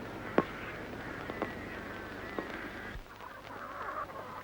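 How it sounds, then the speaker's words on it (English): A chicken on a 1950s family farm gives a few short squawks and clucks over a steady outdoor background with low rumble, the calls spaced about a second apart. "Just take a look at this sweet chicken."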